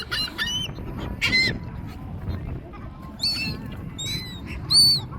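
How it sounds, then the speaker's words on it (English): Seabirds such as sandpipers and gulls squawking while being hand fed on a shore, several sharp, nasal honking calls in bursts over steady wind and surf noise. "sandpipers are making quite the ruckus."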